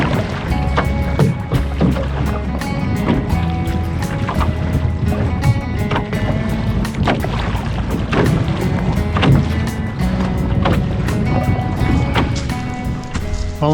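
Steady wind buffets and roars past a solo canoe on an open lake in spring ice-out conditions, with water slapping and paddle sounds underneath, continuous and close.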